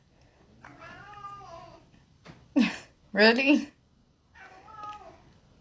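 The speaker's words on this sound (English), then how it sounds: "you already know it's my cat" Domestic house cat meows twice, drawn-out and fairly close, with a louder, harsher outburst between them; someone briefly speaks in between.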